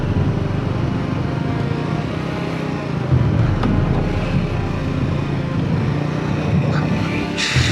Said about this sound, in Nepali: कस्तो हावा चल्यो पुरा पुलै यस्तो यस्तो भइरहेको